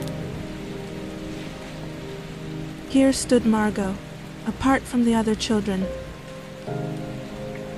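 Steady, constant rain falls on the planet Venus, a soft continuous wash running under a narrating voice and quiet background music throughout.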